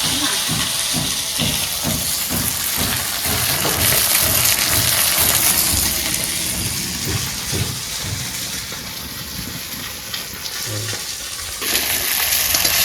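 Tilapia pieces frying in a pan, a continuous loud hiss and sizzle with rhythmic turning and stirring knocks through the first half, steady and close.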